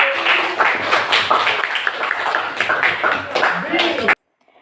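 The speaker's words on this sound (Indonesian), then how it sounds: "give your applause for your job today" A class applauding, steady clapping from many hands with voices talking over it, then a sudden cut to silence.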